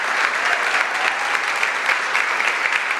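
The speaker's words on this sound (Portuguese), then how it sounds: "Você pode aplaudir o Senhor por isso?" Congregation applauding during a Portuguese-language church service, a dense, steady wash of clapping that holds at an even level throughout, with no talking over it.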